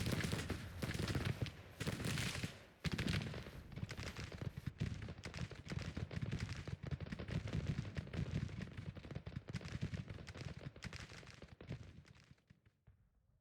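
Dense, continuous musket volleys at short range in the Civil War strategy game Grand Tactician, crackling shots piling over one another with deep booms, loud throughout and fading away at the end.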